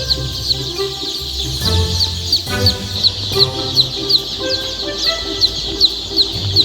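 Chickens cluck steadily around a chicken house during the early days of brooding, with a busy, overlapping chorus of clucks and chirps that stays loud and close throughout, with no talking.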